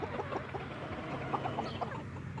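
Backyard chickens clucking softly at a distance, several short scattered clucks rising out of a steady outdoor background hiss.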